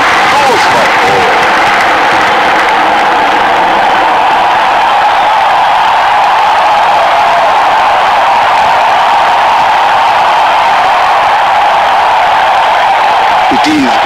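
Continuous roar of a cricket stadium crowd in the video game Real Cricket 2018, with cheering and scattered applause held at a steady, loud level throughout.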